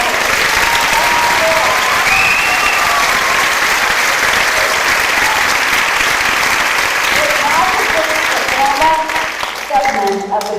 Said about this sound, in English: let's give them another big round of applause and say thank you